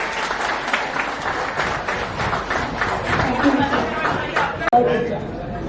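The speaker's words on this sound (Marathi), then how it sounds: "त्याबद्दल तुमच्या सर्वांसाठी जोरदार टाळ्या" Loud, steady applause from a school reunion audience of the 2004 tenth-grade batch, dense clapping filling the room for several seconds with a sharp thump near the end.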